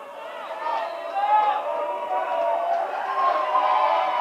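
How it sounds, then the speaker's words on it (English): A basketball crowd roars at a free throw, a sustained wall of cheering and shouting that swells and stays steady, with a nearby voice talking over it. "Crowd making the noise, trying to distract Macklin"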